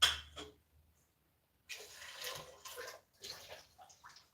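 Water being poured into a pan while cooking Asian fried pork, a short splash followed by a pause and then a steady, fairly close pour in several uneven surges.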